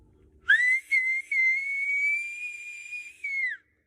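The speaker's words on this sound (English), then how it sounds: "And he whistled" A person whistles alone, a clear, loud, sustained tone broken by two brief gaps early on, then held steady for about three seconds before gliding down and stopping.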